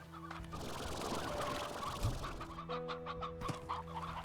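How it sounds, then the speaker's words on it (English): Rooster from the Slime Rancher video game clucks in short, repeated fowl calls over a steady bed of game ambience and music, fairly close and moderately loud. "Rooster."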